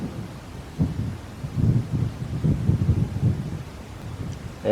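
Strong wind gusting across open dunes in the Sahara desert, a low rumbling buffeting that swells and fades in irregular surges, close to the microphone with no voices.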